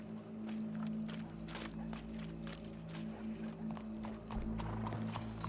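Horse hooves clip-clop steadily in Red Dead Redemption 2, a continuous walking rhythm of sharp knocks layered over a low sustained hum, with faint background sounds throughout.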